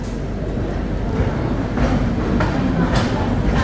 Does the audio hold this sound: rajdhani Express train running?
yes